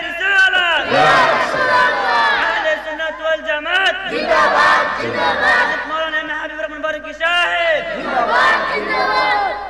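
A large crowd at an outdoor Islamic religious gathering in Lakhai, Bangladesh, shouts takbir in unison, three loud rolling bursts of massed voices with short gaps between them.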